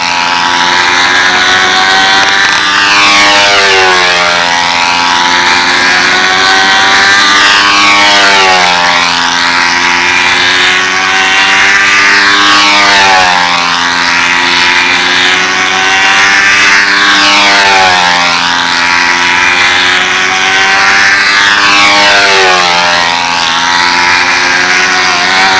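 An RC model plane, fifteen years old and powered by an OS 70 four-stroke engine, makes repeated loud flybys, its engine drone rising and falling in pitch about five times as it sweeps past and away.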